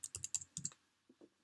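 Keys clatter on a computer keyboard as a search term is typed, a quick burst of about eight clicks, then a few softer taps after a short pause, close and quiet.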